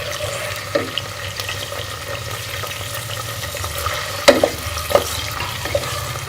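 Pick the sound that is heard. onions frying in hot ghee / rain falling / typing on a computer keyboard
onions frying in hot ghee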